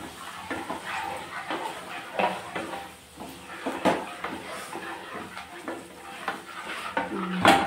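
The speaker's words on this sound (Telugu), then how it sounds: "ఇప్పుడు ఇది వేగిపోయింది కదా మంచిగా" Vegetables for sambar are stirred in a pot, with repeated scraping and clinking spoon strokes over a light frying sizzle and no voices.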